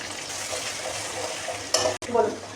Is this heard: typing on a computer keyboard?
no